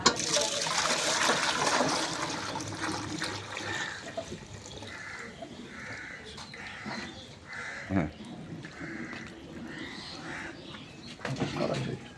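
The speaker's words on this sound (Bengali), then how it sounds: "এটা আমরা একটু দুধটা ঢেলে নিই" Fresh milk poured at a dairy farm, a steady rushing splash of liquid that fades after a few seconds, with voices nearby and faint bird calls in the background.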